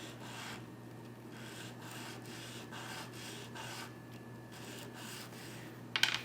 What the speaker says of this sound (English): Let's sand this a little.